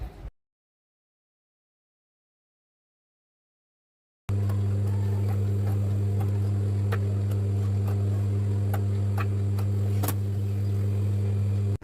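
Sewing machine stitching cotton fabric for a summer kurti, a steady loud motor hum after a stretch of silence, with faint clicks and ticks over the continuous drone and no talking.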